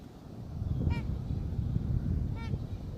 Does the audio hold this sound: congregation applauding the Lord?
no